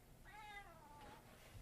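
A cat meows once, a clear rising-and-falling cry followed by a softer second mew, close and alone over a low background hum.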